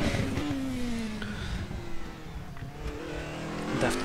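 A Formula Renault 3.5 race car on the Sepang circuit, its engine climbing in pitch as it accelerates away, loud and close at first, then easing off before building again.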